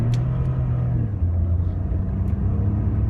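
A 2012 Ford F-150 with the EcoBoost twin-turbo engine runs with a steady, loud, low rumble that holds at a constant level, with no clear rise in revs.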